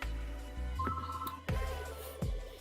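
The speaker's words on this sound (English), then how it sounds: "And my house phone ringing, Lord." A house phone rings indoors, electronic ringtone bursts repeating with short pauses, fairly close and clear with no talking over it.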